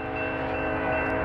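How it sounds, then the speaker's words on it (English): Norfolk Southern northbound intermodal freight train passing Cooke Road in Columbus, Ohio, a steady loud rumble with droning tonal hum, no voices. "Norfolk Southern 20N is coming to Cooke Road in"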